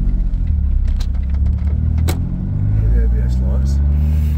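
Smart car on its first road test after a full rebuild, a close, low engine rumble and road noise from inside the cabin with small clicks and rattles, while a person talks over it.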